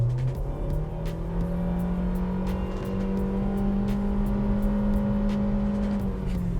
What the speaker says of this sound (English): I'm actually gonna put it into the secret sport mode that you get on the gear selector here, and we're just gonna floor it.